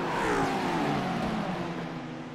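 A pack of about ten GT race cars in a sim racing game whine past together at moderate distance, overlapping engine tones sweeping and fading slightly.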